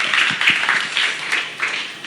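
Church congregation clapping together after a sermon prompt, a short burst of dense, sustained applause from many hands in a large room.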